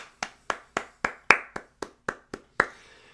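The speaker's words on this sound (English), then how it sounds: "let's give him a round of applause" Nine or ten slow, crisp hand claps from one person, evenly spaced and fairly close.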